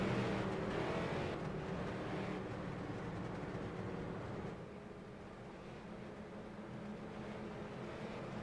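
Race cars circling a track behind a pace car before a street stock race, a steady, moderately distant engine drone that fades slightly partway through.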